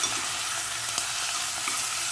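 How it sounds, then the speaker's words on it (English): Steady hiss of onions and potato shallow-frying in a pan, a continuous bright sizzle with faint stirring clicks, no talking. "fried the onions and potato and"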